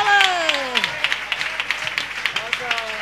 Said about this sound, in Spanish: ¡Aplauso, por Dios!